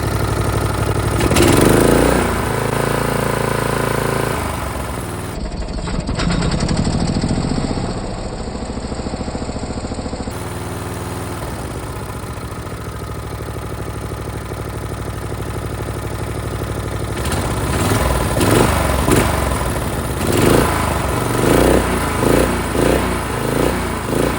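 A Toro lawnmower fitted with a swapped engine idles with a steady, loud mechanical putter, the rhythm roughening and pulsing toward the end with no talk over it.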